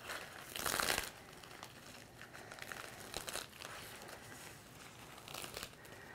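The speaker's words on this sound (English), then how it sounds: "I like to tear the arms in order to get a more natural look." Painted plastic being slowly torn upward into strips after a small scissor snip, giving dry crinkling, crackling rips in a few short bursts, with the loudest one near the start, close and fairly quiet.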